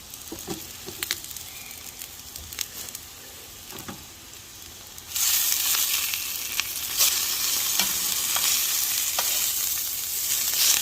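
Onions and potatoes fry in a pan, quiet scrapes and stirring at first, then a strong continuous sizzle swells up and carries on with occasional crackles and stirring taps.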